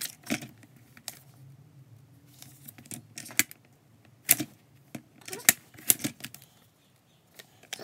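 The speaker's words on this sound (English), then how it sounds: "I'm going to trim the sides off of this a little bit" Paper sides trimmed for a Happy Planner page with scissors, giving a series of short, crisp snips and rustles spaced irregularly over a quiet background, fairly close and moderately loud.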